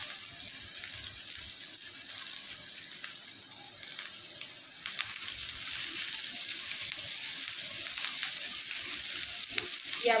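Vegetables fry softly in a pan with a little salt, giving a steady, quiet sizzle with faint crackles and occasional stirring clicks, and no voices over it.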